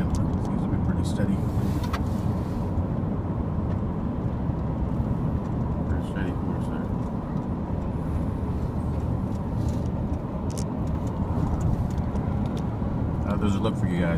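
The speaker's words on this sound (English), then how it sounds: "we're driving through downtown Atlanta" A car drives through downtown Atlanta, its steady road rumble and engine drone filling the cabin throughout with faint city noise around it.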